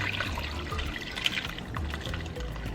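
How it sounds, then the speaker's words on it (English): Cooking stock drains into a pot holding Rotel and tomato sauce for shrimp creole, a steady close pour and trickle of liquid lasting a few seconds with no voices. "drain your stock right into the pot"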